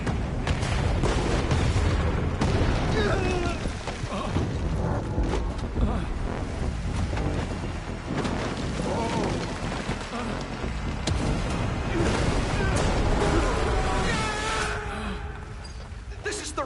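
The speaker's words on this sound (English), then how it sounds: "There was an explosion! The facility has collapsed!" Explosion in the video game The First Descendant, a long, loud, rumbling blast and collapse with dense crashing debris that stays heavy throughout, with speech faintly mixed in.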